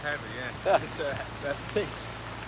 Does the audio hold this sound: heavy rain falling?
yes